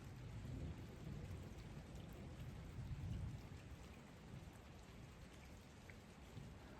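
Steady rain falls from a cloud over a wooded campsite with many dead trees, a soft continuous patter with low rumbling swells, fairly faint and heard alone without voices.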